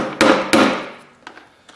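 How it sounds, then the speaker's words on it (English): Wooden-handled tapping hammer striking metal fingers to tap them down, two sharp ringing close blows followed by a few fainter light taps with fading metallic ring. "It's a nice sized tapping hammer. So I take these and, like I say, just tap the fingers back down on it."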